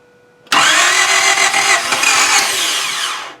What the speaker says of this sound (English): It's spinning over. It tried to start.